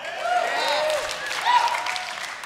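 A church congregation clapping together in a hall, a dense patter of applause with a few whoops rising over it, fairly close and lively throughout.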